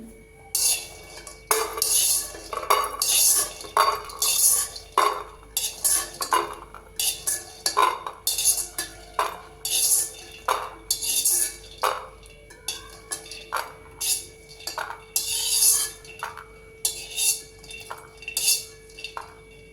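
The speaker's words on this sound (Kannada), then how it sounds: "ಇವಾಗ ಇದನ್ನು ಶಿಫ್ಟ್ ಮಾಡ್ತೀನಿ ನಾನು ಬೇರೆ ಬಟ್ಲಿಗೆ." Fried karamani palya being scooped from a pan into another bowl, with repeated metallic scrapes and clinks of a spoon against cookware in an irregular rhythm, close and fairly clear, no talking.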